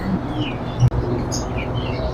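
Cockatiels, common pied and grey birds in a bird shop, chirp and call in short bright bursts over a constant background hum, with one sharp knock partway through.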